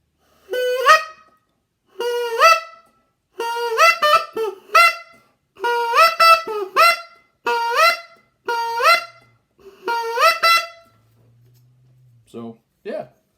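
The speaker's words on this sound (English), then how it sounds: "Very similar to the Duck Commander call, and it sounds like this" A single-reed duck call, similar in style to a Duck Commander call, is blown in a string of loud, nasal quacking bursts with short pauses between groups, close to the microphone.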